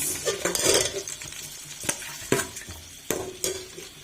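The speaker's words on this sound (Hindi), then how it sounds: "अब इसके अंदर डाल देंगे प्याज।" Onions frying in cooking oil in a pot, a close sizzle broken by sharp utensil clanks against the pot as they are stirred, about five distinct knocks spread over the crackle.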